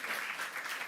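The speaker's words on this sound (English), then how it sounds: "please put a round of applause" Audience applause at a diplomatic event on the Indonesia–EU trade agreement, a steady wash of many hands clapping at moderate, even loudness with no talk over it.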